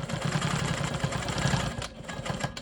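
A sewing machine runs at steady speed while quilting a narrow rectangle of a rolling stone block with swirl stitching, a fast mechanical whir with a brief pause near the end.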